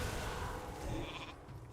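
Sheep polymorph bleat from World of Warcraft arena play, a short game sheep cry heard amid dense combat spell effects and background game noise, moderately loud and brief.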